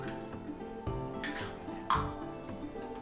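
An egg being whisked into sourdough funnel cake batter in a bowl, heard as a steady scraping swish with a few sharper clinks of the whisk against the bowl, close and without talk.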